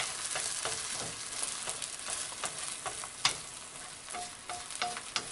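Beaten eggs frying and sizzling in a pan while being pushed around, a steady close crackle broken by scraping strokes and small clicks.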